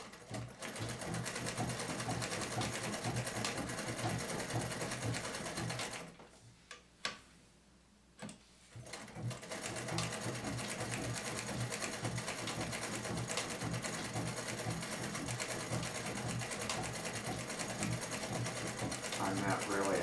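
A vintage Bel Air sewing machine runs a blind stitch, a fast steady mechanical whirring and ticking that stops briefly midway and then resumes, close up, with a person talking over it.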